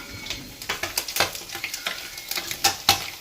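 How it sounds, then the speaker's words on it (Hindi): Small fish fry in a pan with a hissing sizzle and a rapid, uneven series of close crackling pops and spits, no voices heard. "फ्राई कर लेती हूँ।"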